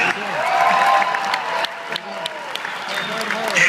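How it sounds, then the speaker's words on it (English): A crowd at a monster truck show gives sustained applause with scattered cheers, spread wide and fairly loud, while an announcer's amplified voice carries over it. "Let's give Larry Quick a big round of applause"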